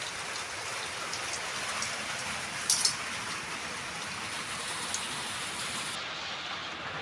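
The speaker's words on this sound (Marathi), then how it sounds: "आज आहे ना पाऊस खूप चालू आहे" Heavy monsoon rain falls in a steady, dense downpour, with an unbroken hiss throughout and no voices.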